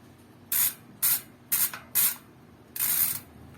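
A mountain bike freewheel hub spins in bursts of loud, rapid buzzing clicks, five short runs in close succession, the last one longer, heard close up with no talking.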